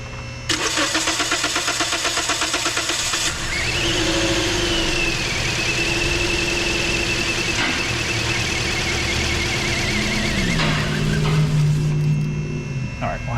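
A 2010 Toyota Corolla engine cranking with a rapid starter chatter for a few seconds, then catching and settling into a steady idle close by, the idle pitch dropping near the end.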